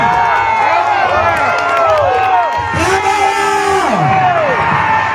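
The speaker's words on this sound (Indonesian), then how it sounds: "kasih tepuk tangan" A crowd at the opening of a Gerindra party office in Sumatera with Prabowo, loud continuous cheering and whooping with shouted voices layered over one another, the crowd noise filling the whole stretch.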